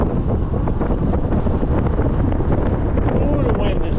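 Strong gusty wind buffets the microphone in an exposed high spot on a Clearwater trip, a loud continuous low rumble with irregular bursts throughout.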